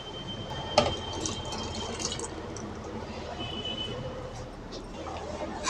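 Water is poured into a freshly rinsed mixer jar: a close, continuous splashing fill with a sharp initial splash, quiet and steady for several seconds.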